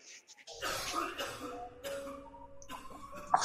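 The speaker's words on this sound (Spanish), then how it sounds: "he oído unas toses, han sido del juego" A man coughing in the horror adventure game The Last Door, a few rough, close coughs and throat sounds in short bursts over quiet ambience.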